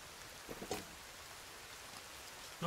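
Steady rain hisses down in the survival game Sons Of The Forest, a faint, even wash of noise with a couple of soft knocks near the start.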